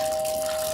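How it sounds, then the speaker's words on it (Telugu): A dripping, running water tap into a sink in a home, heard as a steady, faint watery wash with no voices over it. "నువ్వు ఫోన్ చేసినప్పటి నుంచి ఆ ట్యాప్ కారుతూనే ఉంది"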